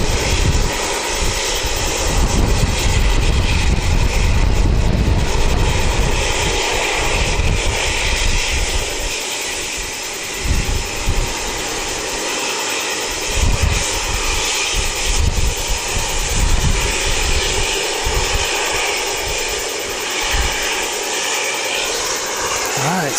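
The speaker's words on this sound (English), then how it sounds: "that one that came in, yeah, that's the one from Nelson, flight NZ8312, ZK-NEZ. I think it's the youngest Dash 8 we've got" An Air New Zealand Dash 8 turboprop lands at Wellington, a loud, sustained propeller and engine roar near at hand that eases slightly midway, with a voice talking underneath.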